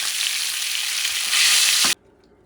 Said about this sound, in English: You're not frying the chicken, you're just cooking, simmering, a notch above medium.